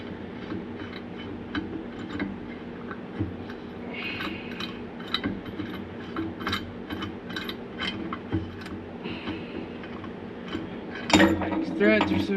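A ratchet wrench clicks steadily as it backs out a bolt on the clutch of a Can-Am Maverick side-by-side, with metallic mechanism noise throughout and a louder burst of clatter near the end.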